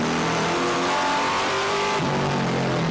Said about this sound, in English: The awesome sound of these V8s.